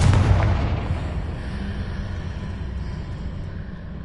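A Confringo blasting spell explodes in the Hogwarts Legacy game, one loud booming blast at the start that rolls off into a long, low rumbling decay.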